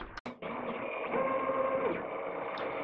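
Tarantula 3D printer running steadily, a continuous mechanical hum with faint stepper-motor whine, preceded by a brief sharp click and dropout near the start, no talking.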